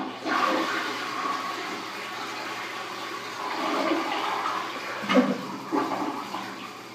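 A household toilet flushing: a rushing, gurgling surge of water that swells and ebbs close by, with a couple of sharper gulps near the end as the bowl drains.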